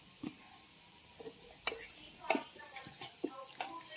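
A spoon stirs crushed peanut powder into a masala brinjal curry in a pan, giving quiet, scattered scrapes and light clinks against the metal, with a few sharper taps.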